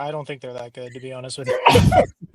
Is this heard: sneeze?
yes